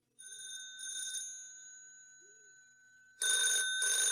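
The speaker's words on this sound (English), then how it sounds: "Very early in the morning, the phone rang in Pat's house" A telephone bell rings in a house early in the morning, a bright tonal ring that sustains and fades, then starts again louder near the end; no one speaks.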